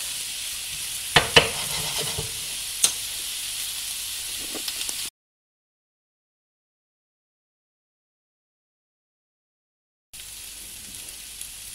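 Chopped onion with a pinch of salt sizzles softly in a pan while being stirred, with a few sharp utensil clicks; the sound cuts to complete silence midway before the quiet frying returns.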